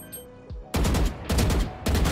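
Shotgun blasts in the Valorant video game: three loud, close booming shots fired at an even pace, each followed by a short roaring tail. Nobody speaks.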